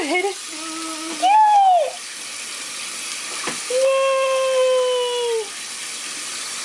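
A small child rinses their hands under a running water tap, a steady faint hiss of flowing water beneath the child's high, excited cheers.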